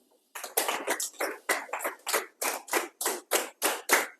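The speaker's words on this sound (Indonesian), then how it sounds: "Sekarang tepuk 3 2 kali." Students in a classroom clap hands in a counted pattern, a brisk run of roughly fourteen sharp claps, some grouped in quick pairs, close and without speech.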